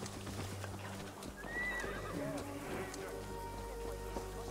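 In the Assassin's Creed Valhalla video game, a horse clip-clops steadily while whinnying partway through. The hooves and neigh sit at moderate level over a continuous low background, with people talking.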